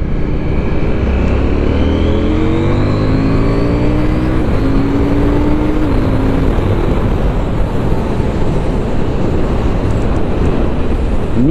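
Husqvarna Svartpilen 801 motorcycle engine pulling hard under acceleration, loud and close, with rising harmonic engine tones climbing through the gears over steady wind rush, no talking.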